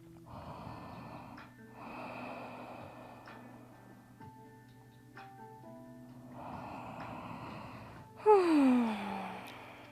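A person in a yoga forward fold takes slow, audible breaths, several soft inhale and exhale swells in a calm rhythm, close by, with a louder sighing breath near the end.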